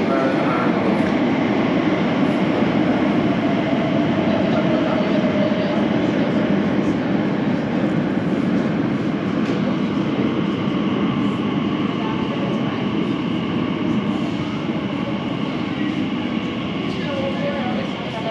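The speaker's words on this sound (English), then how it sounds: "An Abbey Wood train is coming in." An Abbey Wood train rumbles steadily into underground Whitechapel Station in London, a loud continuous roar of wheels and motor with people talking faintly beneath it.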